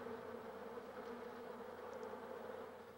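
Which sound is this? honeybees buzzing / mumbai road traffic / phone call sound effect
honeybees buzzing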